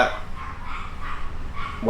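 A dog barks repeatedly in the background of a garage workspace, the yaps spaced evenly and fairly faint under a steady ambient hum, with a louder sound at the very end.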